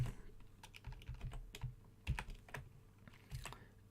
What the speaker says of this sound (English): My typing is terrible.